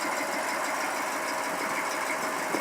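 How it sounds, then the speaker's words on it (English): A 1973 Chevy truck with a million miles idles evenly, a steady close-up engine hum with no talk. "Listen to this thing. Perfect idle."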